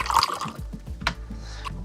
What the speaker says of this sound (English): So let's take this shot of the whiskey pouring into the glass.